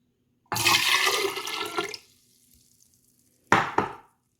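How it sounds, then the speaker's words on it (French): Water pours into a bowl for homemade brick pastry batter, a loud steady splashing stream for about a second and a half, then a brief second pour after a pause. "Donc je commence par verser donc l'eau."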